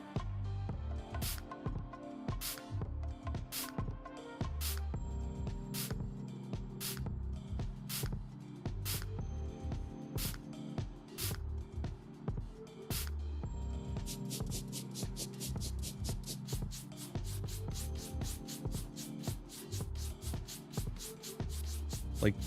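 Repeated hissing bursts of a spray paint gun in the House Flipper 2 video game, steady and rhythmic over a dense, busy background of game music and effects.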